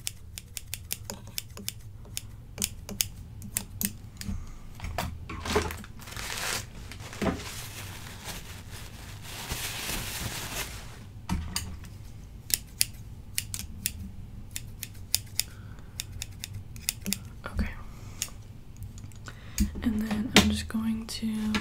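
Sharp scissors snip repeatedly in close, crisp bursts during an ASMR dentist roleplay, with soft whispering and faint handling noises between the cuts.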